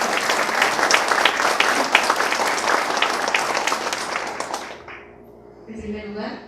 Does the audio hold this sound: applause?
yes